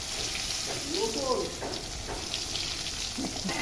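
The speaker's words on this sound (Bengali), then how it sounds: "অনেকদিন পর লাঠি চুলে রান্না করতে আসছি" Food frying in a pan on a wood-fired stick stove in a village kitchen, a steady close sizzle with faint stirring and brief scraping touches, no clear talking.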